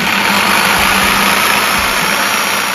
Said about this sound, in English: Yeah, so I've got a jigsaw for this one